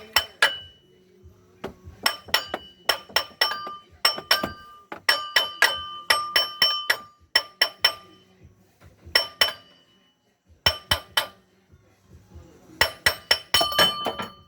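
Sharp metallic strikes ring out in uneven bursts, clanging blows from a big hammer with short pauses between clusters, close and loud, during water pump removal on a 2005 Ford Mustang 4.0 V6.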